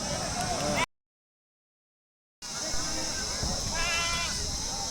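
Sheep and goats bleat at a busy weekly ram market, with crowd noise and chatter all around, and the sound cuts out briefly partway through.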